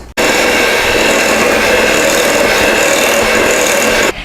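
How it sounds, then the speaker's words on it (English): Butter, cream cheese, light brown sugar and vanilla are mixed for a chocolate chip cream cheese dip, producing a loud, steady whirring rasp that runs unbroken for about four seconds with no talk. "And then we'll mix that all together."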